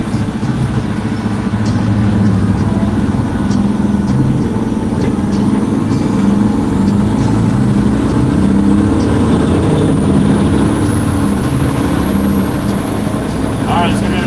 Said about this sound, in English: That's probably why the truck sounds a little louder right now.